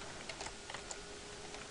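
Quiet keystrokes on a computer keyboard, a handful of light scattered clicks over about two seconds against a steady low background hum.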